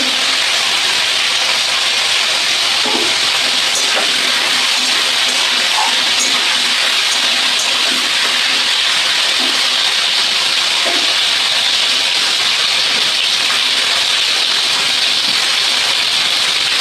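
Pointed gourd and eggplant fry in a pan with part-fried potato and pumpkin, making a loud, dense, continuous hiss of sizzling oil, close by, with a few faint knocks underneath and no talking.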